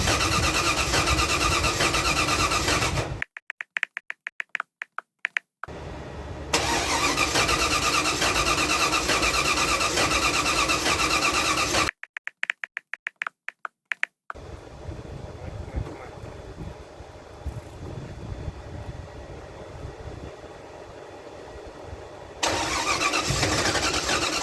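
A swapped Datsun 280Z engine starting after sitting four years: loud cranking, stuttering catches and cutouts, then it fires and settles into a rough idle before revving up again.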